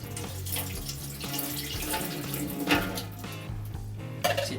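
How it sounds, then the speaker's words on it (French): Beer wort is poured into a primary fermenter with a steady, close running-water sound and faint clinks of equipment, and no talking. "on va verser ça dans notre fermenteur primaire"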